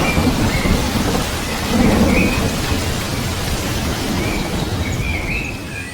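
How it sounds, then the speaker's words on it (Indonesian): Heavy rain pours steadily in a dense, continuous roar, with a deep rumble of thunder swelling briefly near the middle of the downpour; no voices. "Hujan terus mengguyur seluruh ruas Mayapada."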